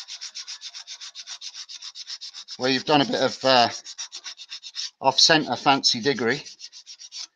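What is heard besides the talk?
sanding a wood-turned piece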